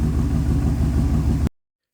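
A 1980 car with its original, numbers-matching 301 turbo engine running steadily, a loud, close low rumble that holds even for about a second and a half before cutting off abruptly.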